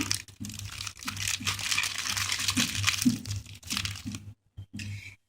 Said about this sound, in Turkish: ilk olarak böyle içinden çıkan eşya paketlerimizi açacağız